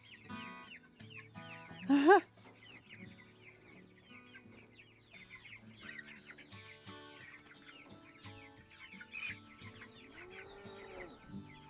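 Pastured poultry clucking softly out on grass, with a louder burst of calls around two seconds and quieter bird chatter continuing throughout, no one speaking.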